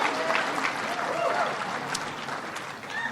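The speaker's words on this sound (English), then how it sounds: "Give Tim Kaine a big round of applause." A large political crowd gives sustained applause for Tim Kaine at a Democratic gathering, a steady wash of clapping with some faint voices and cheers mixed in throughout.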